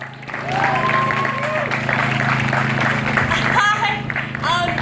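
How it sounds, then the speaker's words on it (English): A crowd at a Leeds rally for the One Day Without Us rights campaign claps for Charlie, with the applause mixed with cheers and voices. "can we give Charlie a round of applause?"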